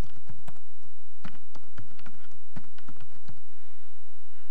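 Keys tapped out in quick irregular bursts on a computer keyboard while a password is entered, close and fairly loud, with short pauses between clusters and no voices.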